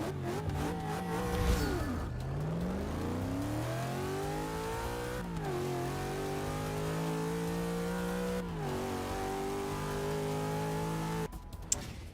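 Car with a positive displacement supercharger in Forza 6 racing down a drag strip, engine revving hard through repeated rising gear sweeps with brief shift dips, loud and steady without talk.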